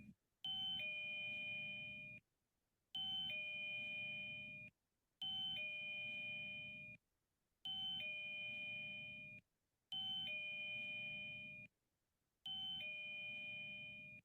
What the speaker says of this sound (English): press the doorbell at least 8 times, each time at least 2 seconds long